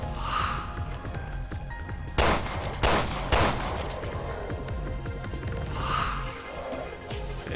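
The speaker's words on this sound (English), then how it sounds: "Oh, assault rifle." Assault rifle fire in Resident Evil Revelations 2, a few loud bursts of shots around the middle over a busy game soundtrack, no speech.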